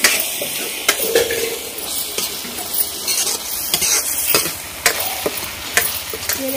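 Spice masala fries in oil on a village chulha clay stove while a spoon stirs and scrapes the pan, giving a steady close sizzle broken by sharp metallic clinks and scraping strokes, with no talking.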